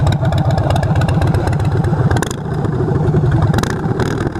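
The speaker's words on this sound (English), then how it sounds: "we'll do a couple of small revs real quick too." A 2015 Harley-Davidson Breakout's twin cam V-twin revs loud and close in a few short bursts over its thumping, lumpy idle, with rapid pulsing exhaust throughout.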